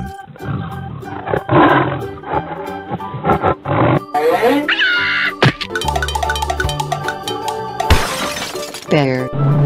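A cartoon lion lets out roars amid a busy run of cartoon sound effects, including shattering crashes and springy boings. A voice is heard among the loud, choppy bursts.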